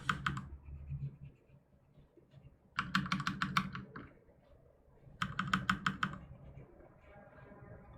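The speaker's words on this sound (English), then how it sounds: "that tack, tack, tack, tack that you hear is my keyboard. It's a mechanical keyboard." Mechanical computer keyboard typing in three quick bursts of sharp, close clicking, separated by pauses, with a faint low room hum underneath.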